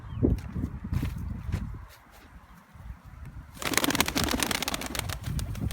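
Pigeons coo and rustle close by, with wing flaps and shuffling; partway through a burst of louder fluttering and scratchy movement fills the scene.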